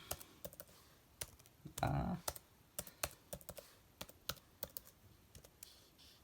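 Keystrokes on a MacBook Pro keyboard while a terminal command is typed, quick clicks in irregular bursts with one heavier thump midway, close and fairly quiet with no talking.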